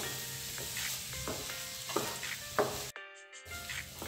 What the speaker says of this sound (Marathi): हा रवा पण व्यवस्थित भाजून घ्यायचा आहे, तेलामध्ये परतून घ्यायचा आहे